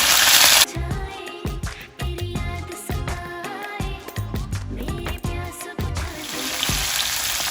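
Curry leaves and garlic frying in oil for gongura chutney while being stirred, bursts of crackling sizzle broken by repeated scraping and clanking of a spoon against the pan, fairly close.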